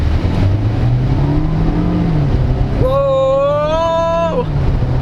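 A 2024 GAC CS3 Emzoom car accelerates hard in sport mode, its engine note climbing steadily in pitch over a constant road and cabin drone, heard from inside.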